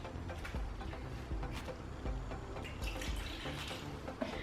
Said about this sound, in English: I'm going to rinse that rice out to just get rid of the starch